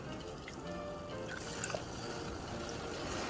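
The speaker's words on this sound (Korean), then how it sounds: "팔팔 끓여서 뜨거운 채로 바로 부어줍니다" Hot, freshly boiled pickling brine of water, vinegar, sugar and coarse salt is poured over chonggak radish piled in a container, making a steady, close liquid splashing and trickling with faint drips and no talking.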